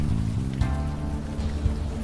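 Steady video game rain pattering down, a dense constant hiss with a low tonal hum underneath, lasting the full moment without pause.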